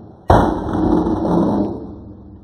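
Blowgun dart striking a beer can about ten yards away gives one sudden metallic clang, a sharp hit with a short ringing tone that fades over about two seconds, heard alone with no talk.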